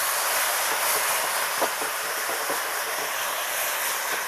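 White wine hits a hot pan and sets off a loud, steady hiss of sizzling and steam, with faint bubbling clicks scattered through it and nobody talking.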